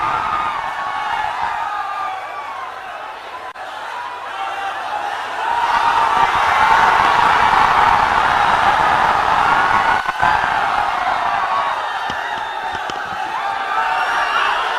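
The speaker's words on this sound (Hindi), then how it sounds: "एक बार तालियों के गड़गड़ाहट से स्वागत करें।" Large outdoor political rally crowd applauding and cheering to welcome Rahul Gandhi to the stage, a dense, steady roar of clapping and shouts that swells louder midway and holds for the rest.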